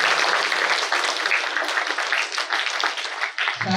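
A hall audience at a school Republic Day celebration bursts into loud, sustained applause to welcome a guest, dense clapping that holds steady before stopping abruptly at the end.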